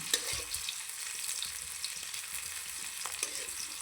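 Steady soft sizzling of food frying in hot oil, with occasional crackles and faint stirring, close by but fairly quiet.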